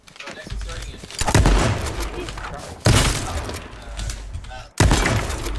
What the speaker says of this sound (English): I just killed somebody with a shotgun.